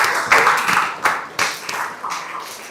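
Scattered audience clapping at the close of a career guidance session, a short burst of several bright, uneven claps in quick succession, close and moderately loud, fading out within a few seconds.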